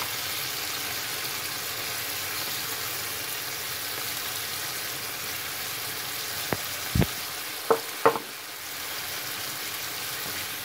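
Salted turnips and pork stir-fry in a pan, seasoned with fish sauce or soy sauce and pepper. A continuous hiss of frying is punctuated near the end by several sharp clacks of a utensil as the food is mixed.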